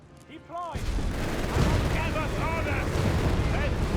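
Gunfire and heavy tank shots boom and crackle in the Company of Heroes 3 battle, a Wehrmacht versus US Forces match, with dense overlapping blasts under a near, continuous rumble and occasional whistling projectile tones.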